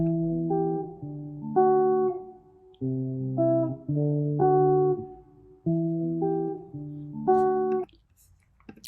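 Clean, bright plucked guitar chords repeat in a steady looping pattern, each chord ringing briefly before the next, with no voices.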